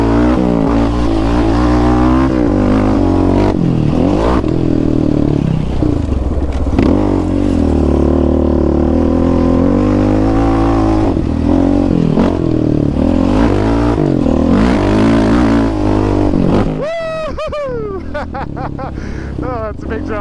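A Yamaha Raptor 700 ATV engine roars loudly up close on a dirt track, revving and shifting pitch through bumps and throttle changes, with a rider's voice talking intermittently over it.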